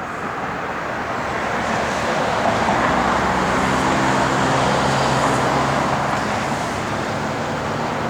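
A 1968 Plymouth Road Runner engine rumbles steadily while driving, with broad road and wind noise throughout.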